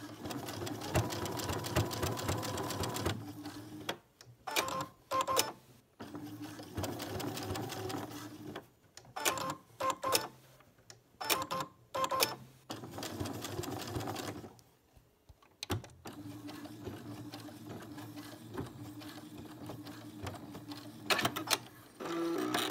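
A sewing machine understitching a pocket seam on joggers, running in steady whirring bursts that stop and restart several times, close and clear, with brief quiet gaps between runs.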